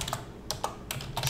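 Computer keyboard typing, a few separate keystrokes tapped in a short uneven sequence, close and soft over faint background noise, with no talking.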